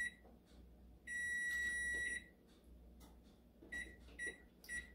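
A kitchen oven signals the end of its cycle with a long electronic beep followed by a few shorter beeps, heard faintly against a quiet room with no talking.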